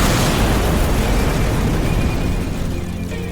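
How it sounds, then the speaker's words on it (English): A series of explosions demolishing a low-rise apartment complex, a loud rolling roar of blasts close by that slowly fades over a few seconds, with no voices. "a series of explosions that demolished the low-rise apartment complex"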